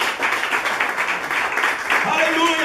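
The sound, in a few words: congregation applause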